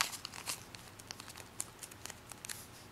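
Origami paper folded by hand for a modular 3D spider, soft crinkles and crisp little creasing taps in an irregular rhythm, quiet and close with no voices.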